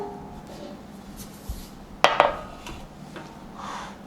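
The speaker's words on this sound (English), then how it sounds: "I'm just going to have another tray and then place it on top, and then just flip this" Metal baking trays clatter as one is set on top of another and flipped over, a sharp double clank midway amid quieter scrapes and light handling in a kitchen.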